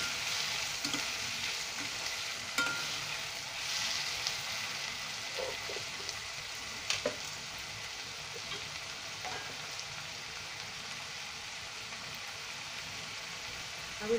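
Finely chopped tomatoes fry in a pan for methi aloo sabzi, giving a continuous close sizzle broken by scattered scraping stirs and light clinks, with no talking.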